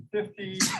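Someone sneezes during a lecture, a short sharp burst right after a spoken word, close and fairly loud.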